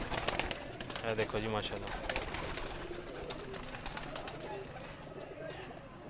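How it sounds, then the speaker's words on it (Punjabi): Pigeons kept on a rooftop in Sialkot call and coo steadily through the whole stretch, close and fairly dense, with someone talking over them. "ਇਹ ਦੇਖੋ ਮਾਸ਼ਾਅੱਲਾ ਕਬੂਤਰ"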